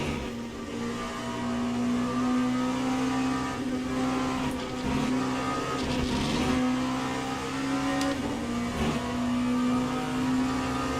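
A Hypercar engine in the racing video game Le Mans Ultimate at a 3 hours of Le Mans race drones steadily at high revs, close and loud, with a few brief sharp clicks and shifts over the sustained tone.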